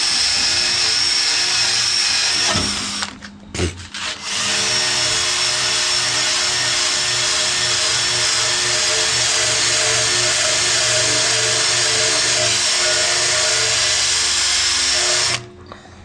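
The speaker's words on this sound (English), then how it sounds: "I'm hoping this wire brush will work" An angle grinder fitted with a wire brush scrubs rust off metal in a loud, continuous high whine that cuts out briefly near the start and stops at the end.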